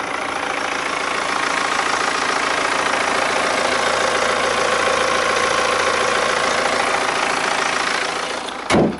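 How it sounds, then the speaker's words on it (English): A BMW 3 Series 2.0-litre engine idles under the open bonnet, a close, steady, even hum that runs unbroken with no talk. "we have a 2-litre engine, as you can hear, very healthy."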